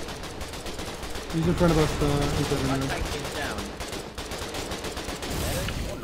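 Gunfire in the war game Foxhole, bursts of rapid shots crackling under voices that talk over the fighting, loud and dense throughout.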